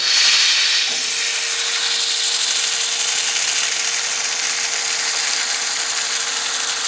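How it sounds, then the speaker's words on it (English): A loud, steady hiss of compressed air rushes continuously through a woodturning gun drill, with a faint mechanical whine running underneath. "Let's open the ball valve."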